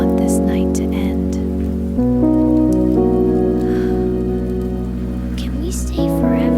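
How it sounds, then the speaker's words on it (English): Rain falling on a camper van, a steady pattering wash behind sustained musical tones that shift in pitch every few seconds. "The rain stayed with us."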